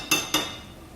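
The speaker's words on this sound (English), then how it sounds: "I'm going to stir the tomato paste until it's also settled" Two quick metallic clinks of a spoon against a pot while tomato paste is stirred into a simple bean stew, close and distinct, followed by quiet.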